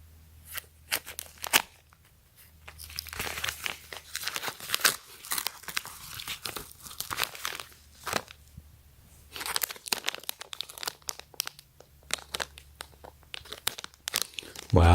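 A yellow bubble envelope holding an Apple Watch band is torn open and handled, with loud crinkling, tearing and rustling bursts close to the microphone throughout, and occasional talking.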